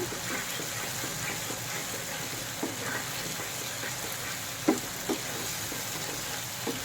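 Spice paste for mutton brain curry fries slowly in oil, a low steady sizzle with a few soft clicks of a spoon, fairly quiet and even throughout.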